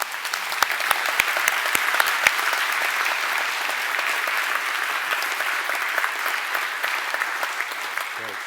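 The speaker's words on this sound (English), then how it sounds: "I would like to invite for a round of applause to thank our participants." A conference audience claps for the participants in a hall, with dense, sustained applause. A few sharp individual claps stand out at the start before it settles into an even, continuous roar.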